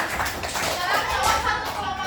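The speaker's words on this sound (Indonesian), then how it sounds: "Beri tepuk tangan." A group claps together in steady, continuous applause that holds at an even level throughout, with no pauses between the claps.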